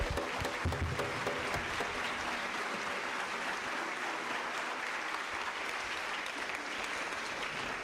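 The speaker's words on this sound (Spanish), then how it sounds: "a quien recibimos con un fuerte aplauso." At a keynote lecture on human rights, an audience gives a distinguished guest speaker a long, dense round of applause that starts strong and holds at a steady level throughout, with no voices over it.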